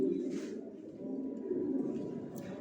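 Pigeons coo softly and continuously inside a breeding loft, a low steady murmur with no pauses and no voices over it.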